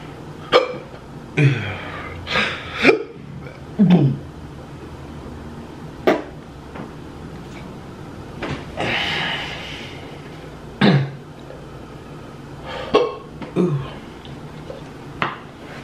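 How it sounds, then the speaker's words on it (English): A person hiccups repeatedly after eating fast food, with about a dozen sharp, abrupt hiccups at irregular intervals, close and fairly loud over quiet background noise. "Oh, see the hiccups, yeah."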